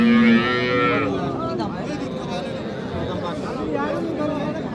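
A cow lows loudly and close by at a busy Bangladeshi cattle market for cows with calves, one long moo followed by a steady murmur of voices and crowd noise.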